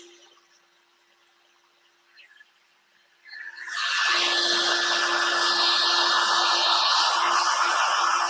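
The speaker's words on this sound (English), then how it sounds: "Right, so I have a heat gun here. Put on the heat gun." A heat gun used for stencil work switches on after a few quiet seconds and a brief clatter, then roars with a loud steady whooshing airflow and a constant motor whine.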